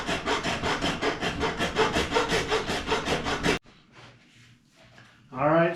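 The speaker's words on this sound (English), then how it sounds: "I'll run a file down each side of it right here real quick" A 3D-printed part filed by hand, steady rhythmic rasping strokes close up for several seconds, then a quiet pause and a brief voice at the end.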